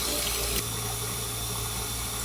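Water runs steadily from a tap at a campsite while something is washed, a continuous close splashing hiss with a low hum beneath and a brief louder burst early on.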